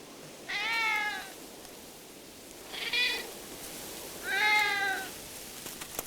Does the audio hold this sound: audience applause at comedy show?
no